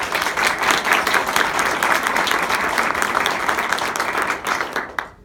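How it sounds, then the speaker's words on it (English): An audience at a school civics competition claps in a dense, sustained round of applause that stays loud throughout and then cuts off abruptly near the end. "Give everybody a round of applause"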